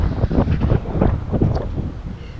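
Strong wind buffeting the microphone outdoors at a car dealership in Richmond, Virginia, a continuous low rumbling roar in irregular gusts, loud and alone without talking.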